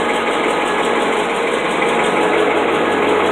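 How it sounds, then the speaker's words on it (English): A 1974 International trackloader engine idling smoothly after a cold start, a loud, steady mechanical hum with an even rapid pulse and no rattling, close to the microphone. "as you can hear, that the engine runs nice and smooth"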